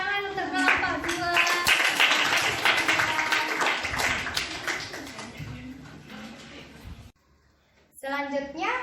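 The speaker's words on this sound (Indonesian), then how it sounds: "Tepuk tangan untuk kelompok 2." Classroom of children clapping for a student group, a loud, steady burst of applause that fades out, cuts to silence, then resumes briefly as a voice is heard.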